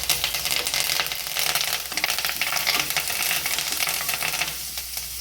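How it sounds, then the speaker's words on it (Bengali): Curry leaves and dried red chillies frying in hot oil give a steady, dense sizzle that holds loud and close throughout, with a faint stirring texture running through it. "কয়েক সেকেন্ড ভেজে নিয়ে দিয়ে দিচ্ছি কারি পাতাটা।"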